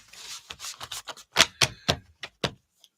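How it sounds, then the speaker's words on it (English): Cards are shuffled and riffled up close in a quick, irregular series of crisp flutters and snaps, with short pauses between bursts. "shuffle these up, see what we got going on here."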